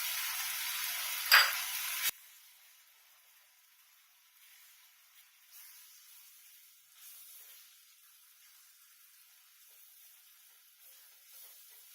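Pav bhaji masala with turmeric powder, garam masala and coriander powder frying in a pan, a brief louder burst of sizzle and stirring, then a soft, steady hiss continuing quietly alone.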